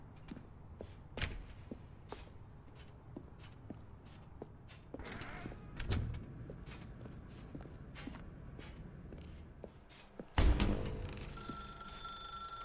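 A telephone rings in an office setting of The Stanley Parable video game, with quiet footsteps and faint room sounds around it. A sharper clunk lands near the end, and there is no speech.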